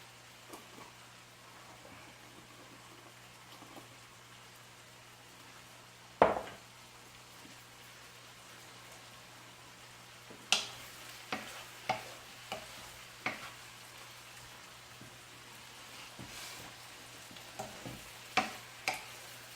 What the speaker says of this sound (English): So this shrimp right now is cooking